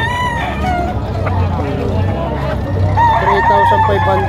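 A rooster crows amid steady chatter and a crowd's hum at a busy poultry and livestock market in Padre Garcia, Batangas, with people talking throughout.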